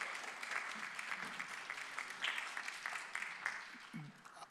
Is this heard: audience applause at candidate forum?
yes